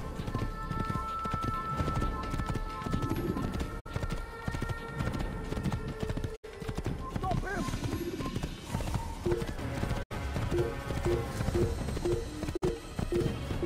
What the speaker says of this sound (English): I'm riding a horse really fast